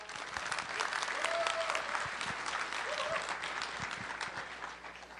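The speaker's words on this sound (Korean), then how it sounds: "이흥복 대표이사님을 큰 박수로 맞아주시기 바랍니다" A conference audience at a UBIVELOX and THINKWARE tech keynote gives a steady, full round of applause to welcome the CEO, the clapping continuous throughout and slowly tapering at the end, with a faint voice briefly underneath.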